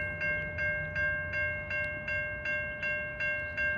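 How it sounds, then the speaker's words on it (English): A freight train heading toward Port Kembla sounds a horn in a steady repeating pattern of about ten regular tonal blasts, fairly distant and alone without talk. "And we have a freight train coming, heading towards Port Kembla."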